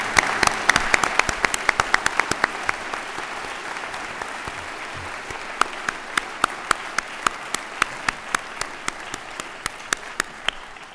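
A large audience at a university graduation ceremony applauds master's degree students. The broad, continuous applause fills the hall, with sharp individual claps standing out throughout.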